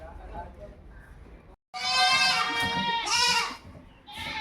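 A goat that has wandered into a house lets out a loud, close, wavering bleat that lasts about two seconds. A shorter second bleat follows, after quieter background sounds.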